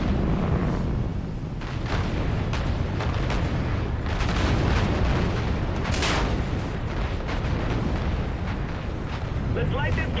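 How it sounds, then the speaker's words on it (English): A tower detonation in Call of Duty Infinite Warfare rumbles as a dense, sustained roar of blasts and booming debris, loud and continuous, with a sharper burst near the middle. "Let's get visual on that tower detonation."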